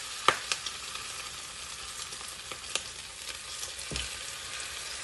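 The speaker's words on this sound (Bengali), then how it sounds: "এগুলো একদম ডিপ ফ্রাই করে নিচ্ছি" Chicken pieces for chilli chicken deep-fry in oil over low to medium gas, a quiet continuous sizzle broken by a few sharp crackles and pops near the start and end.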